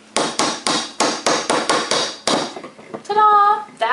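A hammer strikes a knife set into a bath bomb about nine times in a steady, loud rhythm, followed by a brief scrape and a short ringing tone as the piece splits.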